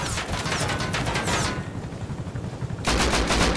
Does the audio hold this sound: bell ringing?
no